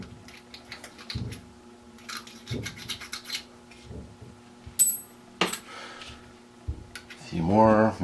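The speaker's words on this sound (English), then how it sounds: "I'm just gonna trim it a little. Just give it a quick trim." Trimming a Berdan-primed brass cartridge case for reloading, heard as short rasping, scraping strokes mixed with light metallic clinks, close up, between stretches of talking.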